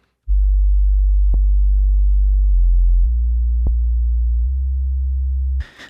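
Layered synth bass built from square and saw waves, a loud sustained low tone stepping through several held pitches with two brief clicks, then cutting off into a short noise burst at the end.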